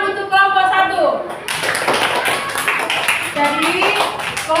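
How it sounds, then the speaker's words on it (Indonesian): Classroom applause for a student group after their presentation, a burst of clapping from many hands running through most of the stretch, with voices speaking over it at the start and end. "tepuk tangan untuk kelompok 1"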